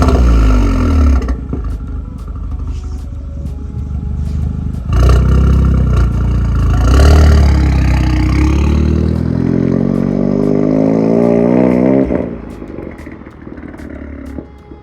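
Audi S1 engine and exhaust revving up close, loud and raspy, with a quick blip and then a longer rising rev that holds before dropping back to idle.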